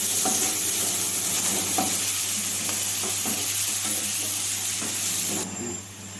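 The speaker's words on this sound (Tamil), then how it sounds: "ஒரு பெரிய வெங்காயத்தை சேர்த்துக்கலாம் இது எல்லாத்தையும் நல்லா வதக்கி விட்டுக்கலாம்" Chopped onion sautéing in a hot pan for vegetable corn rava upma, a steady close sizzle with a few scraping stirs, easing off near the end.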